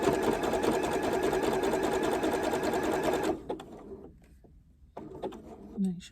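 A sewing machine runs loud and steady for about three seconds while stitching a crazy patchwork postcard, then stops, leaving quiet handling sounds and a brief restart near the end.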